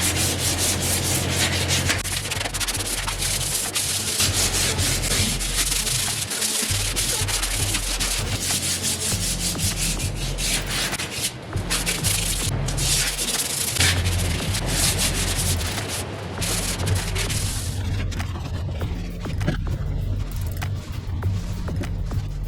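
Sandpaper scuffs the body panels of an EK coupe, a loud, continuous gritty rubbing with uneven strokes that runs the whole time, close up and without talk.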